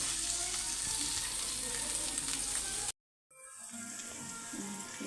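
Aloo masala potato curry simmers in a pan with a steady, close sizzle and bubbling hiss. The sound cuts out briefly partway through, then the quieter sizzle resumes.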